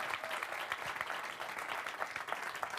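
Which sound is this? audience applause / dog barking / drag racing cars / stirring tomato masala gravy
audience applause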